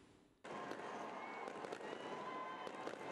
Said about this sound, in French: À Yamoussoukro, feux d'artifice et ambiance de grand jour ont marqué la nuit du 31 décembre.